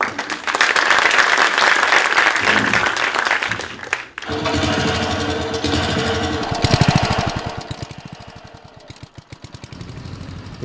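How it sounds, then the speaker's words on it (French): A crowd claps steadily and loudly for several seconds, then a rattling mechanical clatter takes over before fading. "Merci, alors, Florent Palisson, on l'applaudit."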